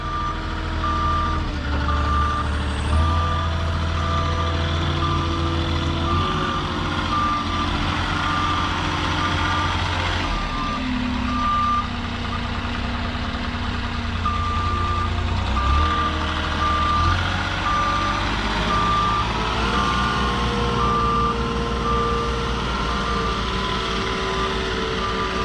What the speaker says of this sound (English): Peterson likes driving backwards